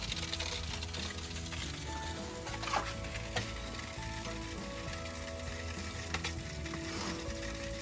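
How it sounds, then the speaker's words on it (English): Andouille sausage and chicken sizzle on a GrOven grill, a steady close, dense crackle and hiss of fat frying with occasional louder pops, running throughout with no talking. "Listen to that sizzle."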